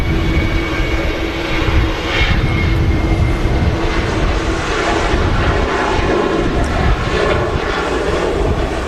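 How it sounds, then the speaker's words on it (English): A Corendon Boeing 737 departs Manchester Airport bound for Dalaman, making a loud, steady jet roar that fills the whole stretch with no voices. "And there goes the Corendon 737."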